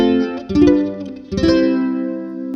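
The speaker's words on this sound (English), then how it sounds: "So there's your reverb and chorus" Uma Pulse concert ukulele strummed through reverb and chorus effects, with two bright chords ringing out in turn and a shimmering, washed-out sustain fading slowly.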